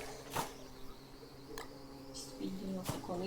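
A buzzing black bee drone hums steadily through the clip in the video game Don't Starve Together, with a few sharp clicks and brief bursts of other noises over it.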